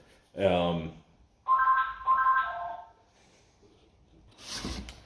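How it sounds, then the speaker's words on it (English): Telephone ringing with a repeated electronic tone in two short bursts, close by, with a person talking just before and after. "The phone rang right in the middle as I was talking"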